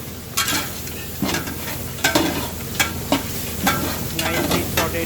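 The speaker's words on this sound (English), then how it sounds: "we're sauteing with the spices like whole spices, cardamom, bay leaf, peppercorn, some cumin seed here" Whole spices (cardamom, bay leaf, peppercorns and cumin seed) sauté in hot oil for goat curry, giving a steady close sizzle with repeated stirring scrapes and soft utensil knocks about every second.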